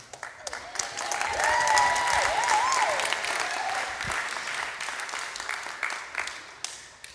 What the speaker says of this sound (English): That was a lot more applause than I got then